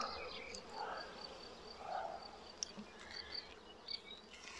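Honeybees buzz steadily in front of a busy beehive with heavy flight traffic, a continuous droning hum with individual bees passing close now and then.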